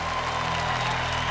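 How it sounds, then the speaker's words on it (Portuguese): A church congregation applauds steadily, dense crowd clapping filling the room at an even, sustained level. "E agora sim aplauda, aplauda, aplauda a igreja do Senhor."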